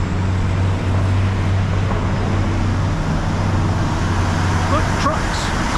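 Trucks rolling along a road in Ketchikan, Alaska, a continuous broad rumble of traffic noise at moderate distance that stays steady throughout.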